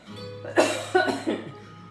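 Three quick coughs in a row, close and clear, caused by pungent chopped chili pepper.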